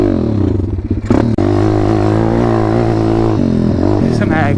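A motorcycle engine sputters and stalls in humid weather, its low rumble running steadily near the mic, briefly dipping and catching around the one-second mark before idling on unevenly.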